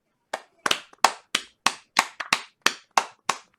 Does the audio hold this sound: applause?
yes